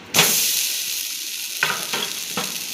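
Jaggery sandesh mixture dropped into a hot wok, bursting into a loud sizzle that fades to a steady fry, with a few scraping stirs near the end.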